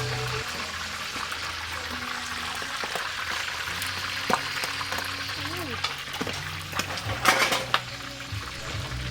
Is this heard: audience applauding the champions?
no